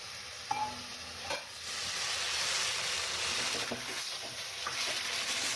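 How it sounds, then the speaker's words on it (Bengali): Brinjal and bitter gourd leaves frying in a pan, giving a steady close sizzle with a few sharp clinks and scrapes of stirring at the start and scattered through the middle. "একটু ভাজা ভাজা হোক, তারপর অল্প একটু জল দেবো"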